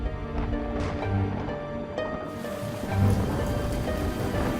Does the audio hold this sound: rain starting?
yes